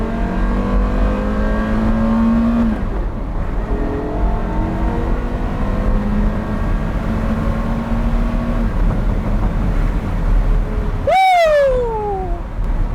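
A Porsche Carrera GT accelerates hard, its loud engine note climbing through the gears in rising sweeps, with a final high-pitched shriek that sweeps upward and falls away near the end.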